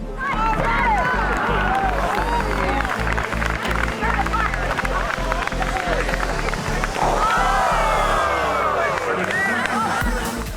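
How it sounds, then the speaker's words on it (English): Spectators at an outdoor endurance race clapping and cheering for competitors, a dense continuous crowd roar with scattered whoops, mixed with nearby talk and babble throughout. "Good to see everyone clapping and cheering for them too"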